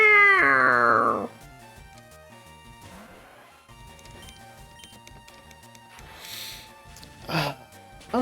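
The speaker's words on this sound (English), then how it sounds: "I like when the music sounds like it's meowing." Meow-like tones in the music of a Pokémon fan game, a loud sliding cat-like wail at the start, then quiet background music with a couple of brief swelling noises later.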